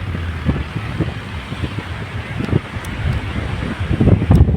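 Strong wind at Arnala Beach in Virar roars and buffets against the microphone in uneven, gusty surges that swell louder near the end.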